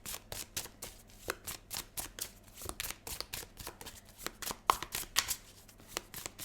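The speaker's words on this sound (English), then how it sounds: "Just going to shuffle a few times, see what comes out, and then pull some cards." Someone shuffles a Prisma Visions tarot deck, a rapid run of crisp riffling bursts in an uneven rhythm, close up and quiet.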